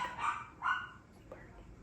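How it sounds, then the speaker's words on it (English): A dog gives two short, close barks about half a second apart, followed by a fainter yip; no one speaks. "The dog."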